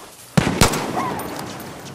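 Two sharp, loud shots from the gun called Bang in Far Cry New Dawn, fired close together, with a reverberant tail fading afterward.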